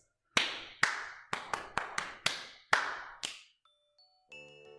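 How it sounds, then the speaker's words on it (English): Body percussion of clapping and patting: eight sharp, close claps and pats in a steady, slightly syncopated rhythm, each ringing briefly, followed by a faint electronic tone. "This is called body percussion."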